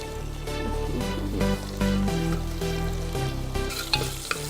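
Two green cardamom pods and a bay leaf fry in a pan for mutton biryani, the sizzle mostly buried under a loud steady hum and tonal background noise, with a few clinks near the end.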